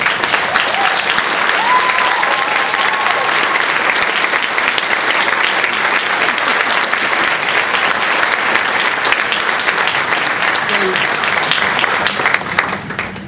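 A crowd applauds steadily and loudly, dense clapping sustained throughout before tapering slightly at the end.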